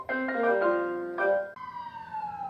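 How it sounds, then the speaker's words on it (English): A loud siren wails steadily, its rising and falling tones sweeping continuously, then shifting to a higher, slowly gliding pitch. "Always with the sirens when I'm trying to record."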